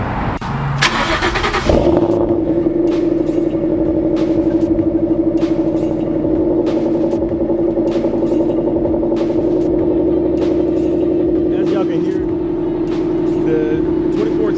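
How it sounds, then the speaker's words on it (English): A straight-piped 2014 Ford Mustang 5.0 V8 with no catalytic converter cranks on a cold start and catches with a loud roar, then settles into a steady, deep rumbling idle from the exhaust, close and sustained. "I'm about to give y'all a cold start"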